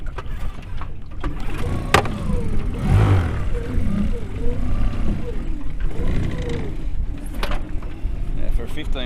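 A 15 horsepower outboard motor drives a small tender boat among the Whitsunday Islands in Queensland, Australia, with a loud continuous engine roar and rising revs mixed with wind and water noise, while a voice talks over it.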